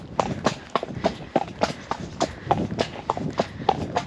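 Horse hooves clip-clop in a steady, brisk rhythm during a ride, sounding close and fairly loud with no talk over them.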